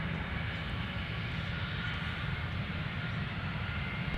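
A jet airliner rolls for takeoff at Minneapolis–St. Paul airport, a steady, loud broadband engine roar with a low rumble holding evenly throughout, no voices present.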